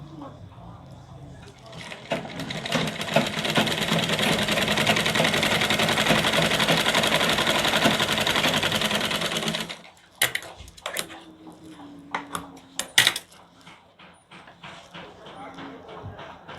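Sewing machine running steadily as it stitches a strip onto a blouse, a continuous dense whir lasting about eight seconds, then stopping, followed by scattered clicks and handling noises.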